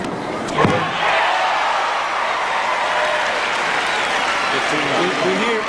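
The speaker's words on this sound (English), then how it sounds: "And the crowd at Arthur Ashe Stadium letting Sampras know they're with him." At Arthur Ashe Stadium during the 1997 US Open, a tennis crowd applauds and cheers Sampras in a steady, loud wash of clapping after a sharp thump near the start, with a commentator's voice over it.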